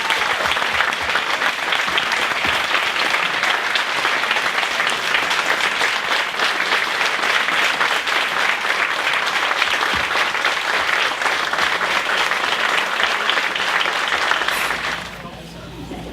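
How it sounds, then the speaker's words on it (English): Sustained applause from a gala crowd honoring community members, loud and dense for about fifteen seconds before tapering off at the end. "Let's give them another round of applause."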